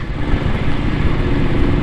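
A motorcycle engine runs with a steady, close, rough drone during a short ride, loud and continuous with no voices.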